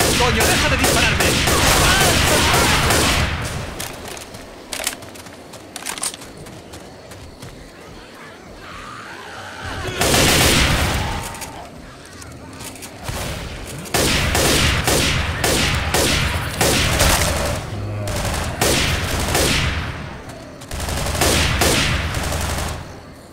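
Bursts of automatic and single-shot gunfire in the zombie shooter Left 4 Dead 2, coming in dense volleys with short lulls between them, loud and close.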